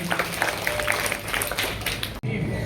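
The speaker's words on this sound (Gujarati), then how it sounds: "આપણે તાળીઓથી વધાવી લઈશું" Audience applause for tied teams at a school science quiz, steady moderate clapping that cuts off abruptly near the end and then resumes.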